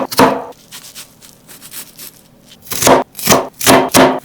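A knife chopping white onion on a board: a sharp cut, a pause, then a quick run of three or four close, crisp chops.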